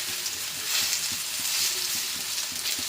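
Brinjal pieces frying in a pan as they are pressed down, a bright steady sizzle with soft regular taps and scrapes from the spatula, close by and without speech.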